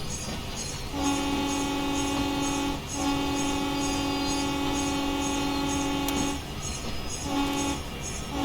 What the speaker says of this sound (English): It's a deep honking sound for a model train.